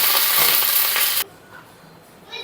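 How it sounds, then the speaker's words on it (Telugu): Dried red chillies and curry leaves sizzle and crackle in hot oil for raw mango dal tempering, a dense, close frying hiss that drops away abruptly partway, leaving a quiet pan with a faint stir. "ఎండుమిర్చి అన్నది నూనెలో ఇలా మంచిగా ఫ్రై అవ్వాలి"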